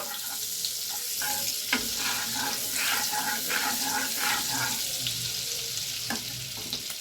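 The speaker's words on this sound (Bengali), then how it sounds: "পুরো বাটারে আমি করছি না, তার সঙ্গে একটু সাদা তেল অল্প করে দিয়ে দিলাম। বাটারটা মেল্ট হওয়া অবধি অপেক্ষা করব।" Butter melts with a little white oil in a pan, giving a steady close sizzle with a few soft clinks and stirring scrapes, no talking.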